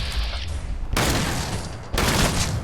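Handmade shotgun blasts in Fallout 4, two loud close bursts about a second apart, each ringing out with a broad, noisy tail over steady background game sound.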